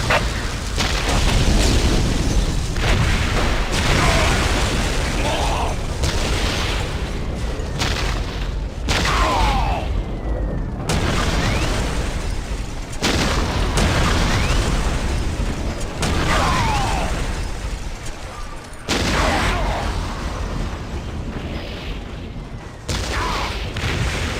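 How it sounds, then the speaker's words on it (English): A Whirlwind missile battery fires in the Warhammer 40,000: Dawn of War strategy game, a loud, continuous barrage of deep booms and blasts layered over dense battle noise for the whole stretch. "Preparing whirlwind missile battery to fire."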